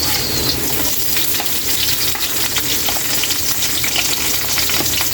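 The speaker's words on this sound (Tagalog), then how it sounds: "Lagyan na natin Kaylee yung sibuyas" Onions sizzle and fry steadily in a pan for a tilapia pochero, a loud continuous hiss with occasional stirring scrapes and no voices.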